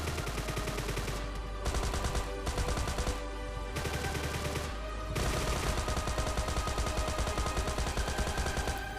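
A Thompson submachine gun in PUBG fires rapid bursts, several long strings of shots with short pauses between them, loud and close.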